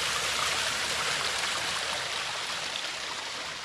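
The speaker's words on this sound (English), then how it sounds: "Take a look at this waterfall." A garden pond waterfall pours in a steady, dense rush of splashing water, close and continuous throughout, with no talking.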